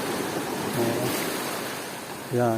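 Strong ocean waves break on a beach in Bicol, a steady, loud wash of surf with wind filling the whole stretch; a voice speaks briefly near the end.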